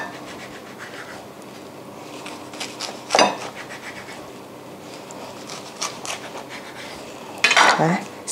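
A knife slices a vegetarian fresh spring roll in half on a board, with two distinct cutting and scraping strokes, one early and one near the end, over quiet kitchen background with little talk.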